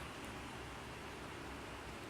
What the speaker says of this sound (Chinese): 外口这是雨声